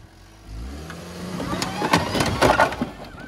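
At a demolition derby, a car engine revs hard from about half a second in: a loud, rough rumble with crackling, rattling bursts, heard close by.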